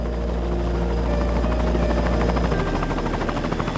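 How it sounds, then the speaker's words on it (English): Small helicopter flying toward a lighthouse with a tiny rooftop helipad, its steady rotor thrum and engine whine loud and close throughout, the low beat shifting slightly near the end. "The helicopter has to be small enough to land on the tiny helipad on top of the lighthouse"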